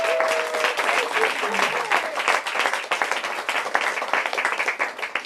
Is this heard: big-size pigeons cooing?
no